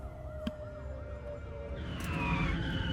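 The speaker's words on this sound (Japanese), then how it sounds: "パトカーの音です" A police car siren wails outside a warehouse with a rising and falling tone, distant at first and then swelling louder and closer as a second siren pattern joins near the end.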